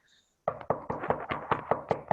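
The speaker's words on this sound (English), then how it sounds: "Hark, how they knock." Knocking on a door in a staged Romeo and Juliet scene: a sudden run of about ten firm, evenly spaced knocks after a brief quiet start, close and loud.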